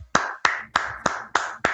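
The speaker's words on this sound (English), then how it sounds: "Clap it up. Clap it up." Six sharp, evenly spaced claps from one person's hands, close and crisp at a steady rhythm of about three per second, each with a short ringing decay.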